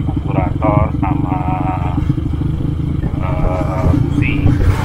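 A motorcycle engine idles steadily after carburetor and spark plug repairs, out on a tea plantation, with a constant low rumble throughout and voices talking over it.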